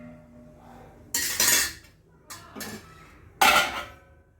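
A utensil scrapes and clinks against a pot while ragi and wheat upma is stirred, three distinct bursts of metallic scraping spaced a second or so apart, close and fairly loud.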